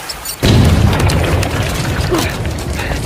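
A sudden loud boom from a small explosive strapped to a rat in a film scene bursts in near the start, followed by a sustained roaring rumble that fills the rest of the moment.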